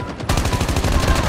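Rapid automatic gunfire from the Alcatraz map of the video game Call of Duty Mobile rattles out in a dense, loud burst of shots with no voices over it.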